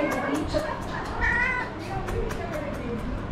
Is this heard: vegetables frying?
no